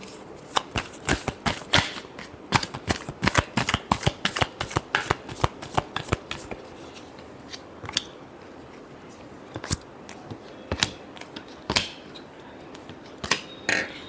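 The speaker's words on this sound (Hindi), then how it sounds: "last shuffle" Tarot cards shuffled by hand in rapid riffling bursts, crisp close flicks coming in dense runs early and then thinning to scattered single snaps, with no voices.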